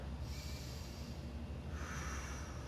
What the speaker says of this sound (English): 5 deep breaths in through your nose, out through your mouth.